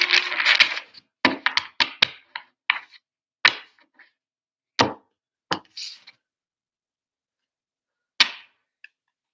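Playing cards are shuffled by hand in a run of sharp, papery slaps and flicks, irregularly spaced with short silent pauses between them.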